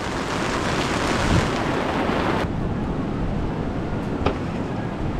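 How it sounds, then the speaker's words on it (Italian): Heavy rain pours down steadily around people sheltering beneath a boat on a trip toward Cowrie Island, a dense, constant hiss that eases slightly midway, with a couple of brief louder spatters. "È iniziato a piovere di brutto, ragazzi, e ci siamo riparati sotto questa barca."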